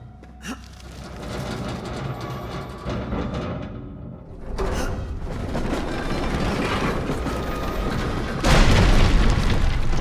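A cart full of rocks explodes in a video game, a loud booming blast followed by sustained rumbling debris noise, with a second surge of roaring blast sound near the end.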